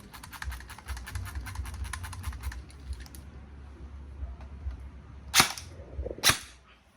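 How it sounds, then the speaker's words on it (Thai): A Double Bell M4 toy gel blaster fires on full auto in the backyard, a dense rattling burst of rapid clicks for about three seconds, then quiet, followed by two louder separate cracks close by. "เดี๋ยวไปยิงดูกลุ่มกระสุนหลังหลังบ้านกันนะ"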